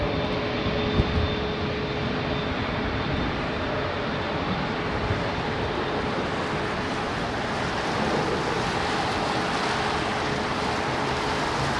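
A Virgin airliner roars past at London Heathrow Airport on a windy day, a loud, broad and steady jet rumble with wind buffeting the microphone.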